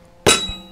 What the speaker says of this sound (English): One, we're going to swat the back of the tire once.